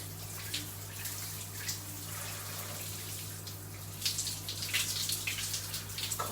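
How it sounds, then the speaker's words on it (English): Cold tap water running and splashing while curly hair is rinsed, an uneven spattering hiss that swells louder toward the end over a constant low electrical hum, with no talking. "I'm gonna rinse it off with cold water"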